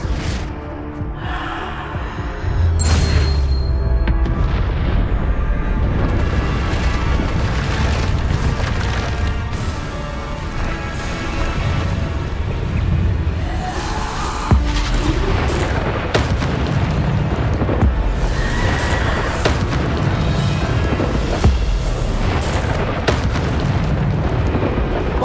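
Repeated heavy booms from Bombarda spell blasts in Hogwarts Legacy, loud and dense through a chaotic fight, with bursts and debris crackle layered over continuous action noise and no talk.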